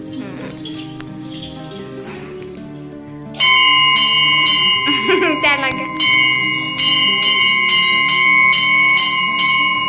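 A bell rings repeatedly with bright, ringing strikes that sustain and overlap, loud and close, while people talk and laugh.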